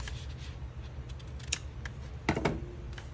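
Scissors snip paper for an art journal in a few short, crisp cuts, one sharp cut midway and a louder double snip near the end, close and with no talk.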